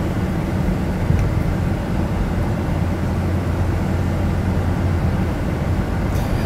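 Steady low rumble of a 2010 Chrysler Town and Country minivan cruising smoothly on a test drive, heard from inside the cabin as continuous road and engine noise with no talking.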